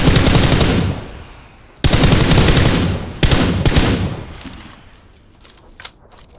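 Bursts of automatic gunfire from a shooter video game, loud and close, firing in three rapid sustained volleys before trailing into quieter scattered shots and echoes.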